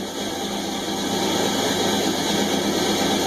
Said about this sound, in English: The fan's hitting the top of the shroud.